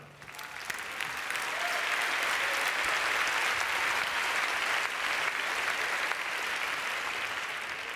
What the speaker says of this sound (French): Nous voulons bien applaudir Elena Panova.